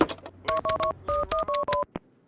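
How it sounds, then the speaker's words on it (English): A phone number is dialed on a telephone in the video game Max Payne 2, a quick run of about eight distinct touch-tone beeps in an irregular rhythm amid faint handling clicks, heard alone and fairly clearly. "I need to make a call."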